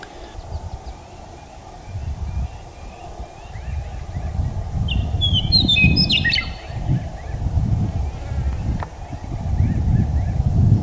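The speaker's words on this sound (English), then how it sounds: "I'm going to let this audio roll so you can hear the birds" Birds chirp and call outdoors on a walking trail at Zapata Ranch, Colorado, with a brief cluster of sharp high notes standing out over a steady low rumble of wind or distant traffic.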